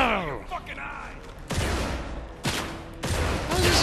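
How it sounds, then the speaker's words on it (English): Shotgun blasts in the video game Dark Athena, three loud booming shots spaced about a second apart, each with a sharp crack and lingering rumble, following a brief burst of in-game noise. "Oh, this is a shotgun."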